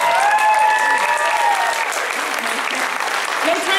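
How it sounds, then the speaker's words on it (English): At the South Texas Comic Con 2016 Q&A panel, a large crowd applauds loudly and continuously, a dense wash of clapping with some voices mixed in. "No time for applause"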